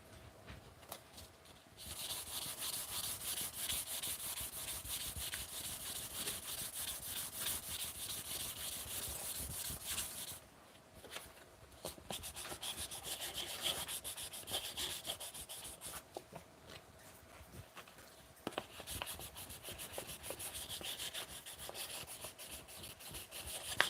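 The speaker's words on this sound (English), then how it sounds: "now we're going in with the last grit of sandpaper" Sandpaper rubbing along a softened wooden edge in steady back-and-forth strokes, close and continuous, with brief pauses between passes; no talking.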